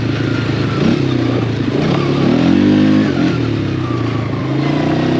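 Polaris Scrambler 500 H.O. ATV engine running steadily nearby, its single-cylinder drone rising briefly in pitch as the throttle is blipped, continuous with no voices.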